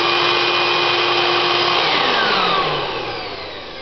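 A vacuum cleaner runs with a loud, dense, high-pitched whine and broad rushing air, steady at first, then its pitch slides down as it starts winding down near the end.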